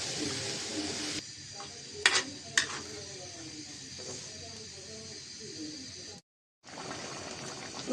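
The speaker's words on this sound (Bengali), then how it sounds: "মাছটা বলক এসেছে" Boal fish curry with beans, potato and tomato bubbling in a pot after water is added, a steady hiss with soft bubbling and a couple of sharp clinks, cutting out briefly near the end.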